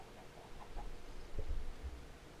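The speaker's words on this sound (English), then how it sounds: "Chickens are still over there just making us some eggs." Chickens in a Minecraft modpack game giving a few soft, brief clucks, quiet against a low background hum.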